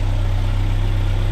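A Hillman Superminx car engine idles steadily nearby, a loud, even low hum with a regular pulsing throb and no voices.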